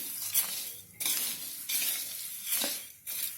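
A homemade namkeen mix with green boondi being stirred and tossed in a metal pot: repeated bursts of dry, rustling scrapes in an uneven rhythm, close and moderately loud, with no voices.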